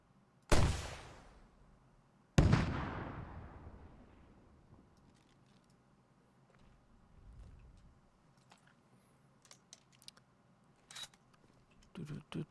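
Two sharp, loud rocket launcher blasts in a video game, each with a long decaying roar, followed by quieter scattered clicks and thumps.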